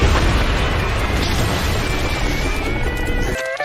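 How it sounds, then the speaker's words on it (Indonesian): A SpongeBob SquarePants cartoon ice cream missile explosion: a loud, sustained roaring blast of broadband noise that holds steady, then cuts off abruptly at the end. "mendapatkan es krim gratis dari ledakan rudal ice cream tersebut"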